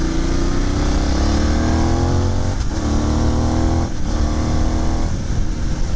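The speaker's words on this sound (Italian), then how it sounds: "si cambia marcia e la moto è subito pronta con la marcia successiva" Benelli 752S motorcycle engine revs loudly and continuously while accelerating, its pitch climbing steadily, with two brief dips where gears shift, then rising again; no talk.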